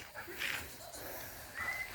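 A dog pants in quick, breathy bursts while it searches, close by, with people urging it on in the background.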